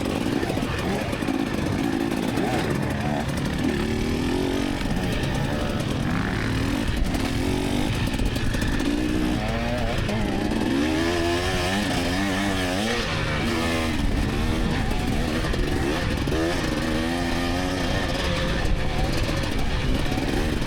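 Dirt bike ridden on a wooded trail, engine droning steadily and close throughout, with other riders in line nearby; no distinct water splashing stands out.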